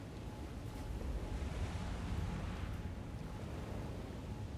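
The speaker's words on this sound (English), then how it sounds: "you guys couldn't even enjoy the peaceful waves as much as you should have been" Soft ocean waves rolling in the video game Elden Ring: Shadow of the Erdtree, a low, quiet, continuous wash of surf with a gentle swell partway through, no talk over it.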